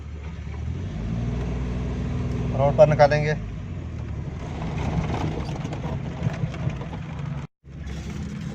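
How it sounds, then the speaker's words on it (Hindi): A Suzuki Mehran car engine idling steadily after starting, a low continuous hum with a brief rev, while someone talks over it. "दोस्तों ये हमारी गाड़ी स्टार्ट हो गई है।"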